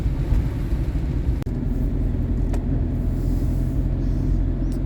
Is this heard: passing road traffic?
yes